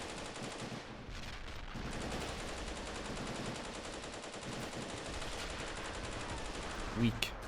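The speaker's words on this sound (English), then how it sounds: "Weak sounding gun, by the way." Gunfire from a Korean War hill battle in a video game with a realism mod, thin and light-sounding, rattling in continuous rapid bursts throughout, with distant shots layered underneath.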